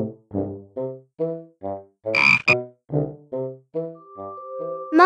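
A male frog croaks in a pond setting, giving about a dozen loud, close, evenly spaced throaty croaks in a steady rhythm, with a brief bright splash or chime in the middle and a held tone near the end.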